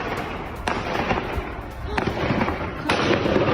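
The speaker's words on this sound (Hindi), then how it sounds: "कैसे हमलावरों ने डर्बन शहर में 2 चर्च में फायरिंग शुरू कर दी" Gunfire from attackers firing at churches in Derbent, Dagestan, rings out as a few sharp, spaced reports over a constant noisy wash of background commotion.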